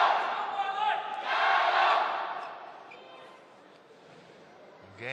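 A crowd at a badminton doubles final at the Asia Championships swells into loud chanting and cheering, then fades to a murmur before rising again at the very end, with commentary running underneath.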